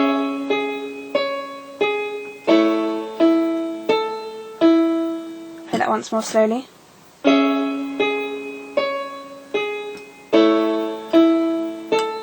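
Piano playing a bar of a song, in the bass hand: sustained, evenly spaced chords ringing clearly, with a short spoken interruption midway before the playing resumes.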